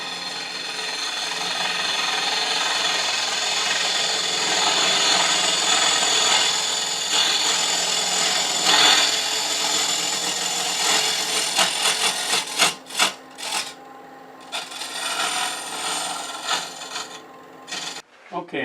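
Mike Hunter's Viceroy cupped carbide tool cutting soft wood on a spinning lathe, a steady rasping, scraping hiss that runs continuously before breaking into short choppy cuts and pauses near the end.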